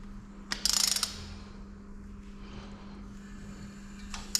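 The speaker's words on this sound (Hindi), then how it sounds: "तो बड़ा रेंच ले लिया है, एंटी क्लॉकवाइज घुमाते हैं" A large wrench turns the engine of a Yamaha Fazer 600 motorcycle anticlockwise during valve clearance adjustment, giving a brief burst of close ratcheting clicks over a low steady hum, followed by faint mechanical rustling.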